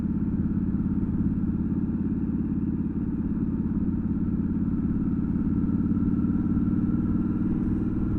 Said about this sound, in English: it definitely pops through the exhaust more now when you come off the throttle.